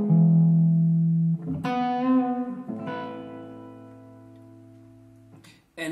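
Electric guitar playing an augmented lick, a sustained low note and then a few bright, distorted chord stabs ringing out with reverb and decaying slowly.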